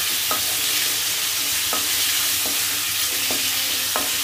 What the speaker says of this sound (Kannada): ಲಿವರ್ ಹಾಕ್ಕೊಂಡು ಚೆನ್ನಾಗಿ ಒಂದ್ಸತಿ ಮಿಕ್ಸ್ ಮಾಡ್ಕೊಳ್ಳೋಣ ಇವಾಗ